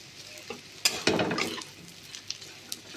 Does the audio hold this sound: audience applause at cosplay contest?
no